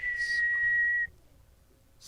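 A person whistles one steady, clear note for about a second, alone and fairly close, followed by a faint hiss and quiet.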